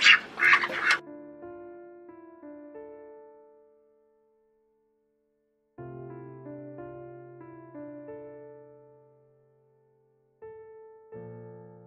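Ducks on a homestead quack in a short loud burst, followed by sustained tonal notes that fade, pause, and return twice.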